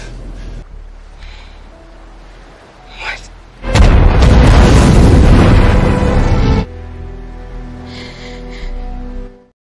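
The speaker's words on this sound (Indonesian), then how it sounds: "misil dari tentara Jepang pun datang dan seketika meledak menghancurkan pulau tersebut" A missile strike blows apart an island in the James Bond film No Time to Die: a sudden, loud, roaring blast lasts about three seconds, with quieter rumbling before and after.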